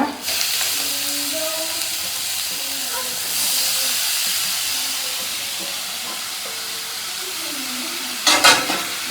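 Beetroot fries in a pan with a loud, continuous sizzling hiss and faint voices in the background, ending with a short clatter of a utensil against the pan.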